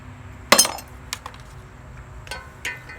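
Hardware and bolts from a 1973 Kawasaki Z1 motorcycle clinking in a box, a sharp metallic rattle followed by a few scattered lighter clinks, close and with no talk.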